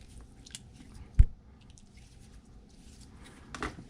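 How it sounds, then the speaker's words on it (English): Cleaning putty being kneaded by hand gives soft, faint squishing and squelching, with one sharper wet squeeze about a third of the way in and quiet handling noise around it. "So just knead it a few times"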